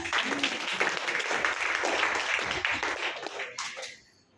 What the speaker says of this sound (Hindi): परमेश्वर के लिए ताली देंगे जोर से।